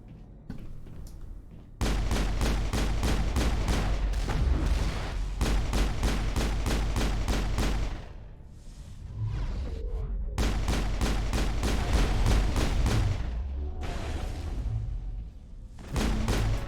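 Sniper gunfire in the Mass Effect video game, rapid bursts of loud repeated shots in two long volleys separated by a brief quieter lull, with a short final burst at the end.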